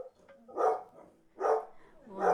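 Dogs bark indoors in three loud, evenly spaced bursts about a second apart, each a harsh yelping woof, with faint noise between them.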